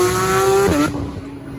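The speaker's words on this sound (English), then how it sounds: "R35 GTR leaving right now" Nissan R35 GTR leaving a car meet, a loud close engine note that rises in pitch and then drops sharply as it shifts, fading away over a second and a half.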